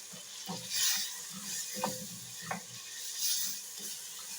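Potatoes cook in a pan over garlic that has already softened, giving a steady close sizzle with a few sharp clinks and scrapes of stirring scattered through.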